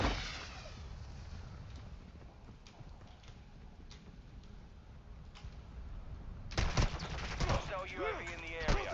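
Small-caliber gunfire crackles in a Call of Duty DMZ match: scattered distant shots over steady background noise, then a louder, closer burst of rapid fire near the end.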